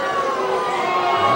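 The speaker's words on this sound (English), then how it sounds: "Stop booing." A 1981 game show studio audience boos loudly, a sustained crowd jeer that holds steady the whole time with no break.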